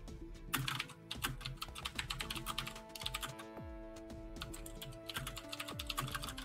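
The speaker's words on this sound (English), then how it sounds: "We all got mechanical keyboards. They're going to be loud as fuck." Several mechanical computer keyboards clatter together in rapid, uneven bursts of sharp clicks and clacks, with faint electronic game sounds underneath and no talk.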